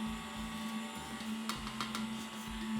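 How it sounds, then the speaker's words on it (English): An electric mixer runs at low speed through cake batter for a strawberry vanilla cake as milk and flour are added, giving a steady, quiet motor hum with faint scraping underneath. "Now with mixer going on lower speed, add half milk, then half flour"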